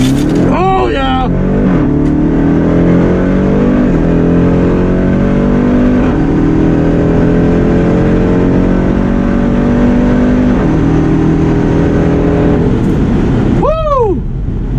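A Jeep Trackhawk launches hard on launch control at a drag strip: a loud, close engine roar climbs through several gear shifts, tyres chirp briefly at the start, and a whoop and a passing car are heard near the end.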